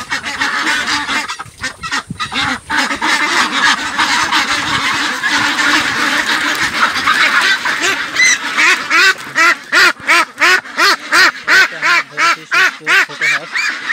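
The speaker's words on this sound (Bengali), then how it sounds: "এখন আরেকটা ছোট একটা সুস্থ হাঁস ধরবো" Ducks on a farm quack loudly and repeatedly while being caught and weighed. Harsh, honking calls come close, turning into a fast, regular run of quacks toward the end.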